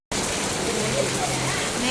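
Rain falls outside a bangle and jewellery shop as a steady, close wash of hiss that begins abruptly and stays even, with a voice faintly underneath.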